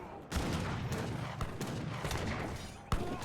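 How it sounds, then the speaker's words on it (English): A musket volley crackles in Age of Empires 3 amid a large battle against skirmishers. Loud massed shots break out together and are followed by repeated sharp reports over a constant battle din, and a last hard crack comes near the end. "Gets a good volley there on the skirmishers,"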